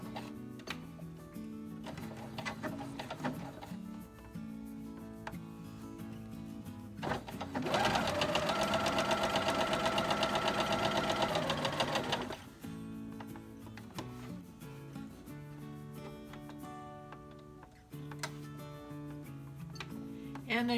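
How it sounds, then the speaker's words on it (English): A sewing machine stitches a straight line corner to corner across a quilt block, a rapid even whirring burst of about five seconds standing out loudly between quieter stretches of talk and handling noise. "I will be sewing from this corner to this corner, straight line."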